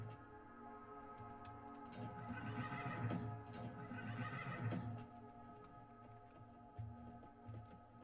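A horse neighs in an MMO video game, one whinny rising over a steady game soundscape near the middle, with faint clip-clop hooves around it.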